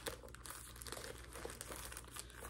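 A small pack of tissues crinkles and rustles as it is pushed into a little back pocket of a handbag, a quiet continuous plastic crackle heard close up without talk.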